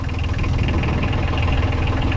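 A boat engine idles on the Columbia River, a steady low rumbling drone with a faint knocking pulse, close and continuous with no talk.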